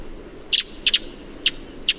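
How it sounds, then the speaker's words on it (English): Redwing alarm call: four sharp, high, buzzy notes, some doubled, spaced irregularly over a faint background, clear and fairly close. "the redwing alarm call is actually quite similar to the song thrush alarm call"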